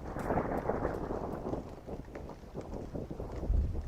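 Rolling thunder and gusting wind in a storm around a bus, a dense, low, rumbling roar that swells and ebbs for several seconds with no voice over it.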